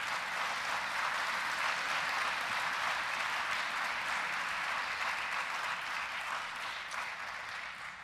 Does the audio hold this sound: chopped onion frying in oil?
no